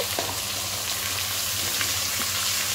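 Pointed gourd, taro, potato and cauliflower frying in a pan for a mixed vegetable dish make a dense, steady sizzle close up, with a few light stirring clicks and no voices.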